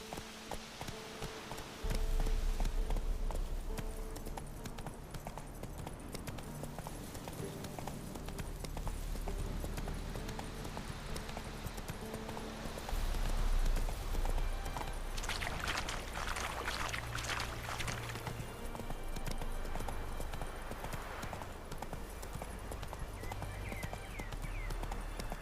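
A horse gallops in The Witcher 3, its hoofbeats a steady clip-clop under a dense wash of ambient game sound and music that runs the whole way through.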